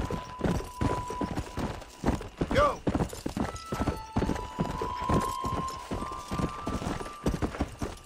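Rhythmic clip-clop of horse hooves in Red Dead Redemption at a steady pace, with a brief whinny and game-like tones and a voice talking over it.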